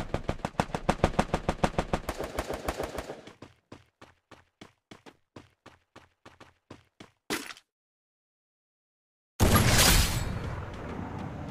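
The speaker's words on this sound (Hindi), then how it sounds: "रुको वहाँ से फायरिंग की आवाज़ आ रही है" Gunfire in the mobile battle royale game Free Fire: a rapid automatic burst followed by a slower string of evenly spaced single shots, a pause into silence, then a loud sustained blast of noise.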